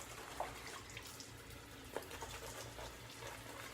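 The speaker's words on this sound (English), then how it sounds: "So I need to add a little bit more water for the second pass." Running water from a tap fills a shaving brush, a steady soft hiss with a couple of faint clinks, quiet and close.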